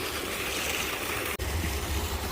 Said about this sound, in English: Here's the waterfall right here.